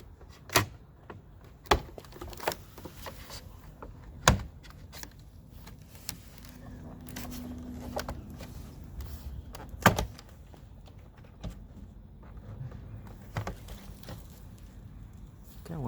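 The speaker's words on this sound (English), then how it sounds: "taking the clips apart, popping the clips out of the door" Plastic trim clips popping out of a Mercedes W216 CL door panel, heard as a few sharp, separate snaps spread unevenly through the clip over a low, steady background.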